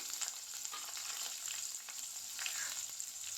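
Sliced onions, green chillies and curry leaves fry in hot oil for a pea and potato kurma, giving an even, close crackling sizzle with small bursts of spatter and no talking.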